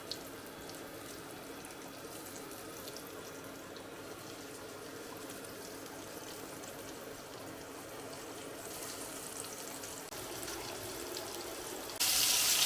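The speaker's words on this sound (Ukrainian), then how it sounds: "І як розігріється олія, викладаємо на сковорідку." Crucian carp frying in hot oil in a pan, giving a steady broadband sizzle throughout that swells a little louder toward the end, with no talking.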